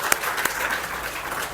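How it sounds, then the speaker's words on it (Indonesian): An audience at a company work meeting in a hotel gives a short, moderately loud round of applause, a steady patter of clapping with a couple of sharper claps standing out. "Tepuk tangan."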